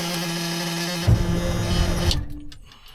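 A Detroit 12V71 diesel in a Peterbilt 359 barn find cranks over on the starter, a steady whirring churn that swells into a rough, heavier rumble for about a second before cutting off into quiet.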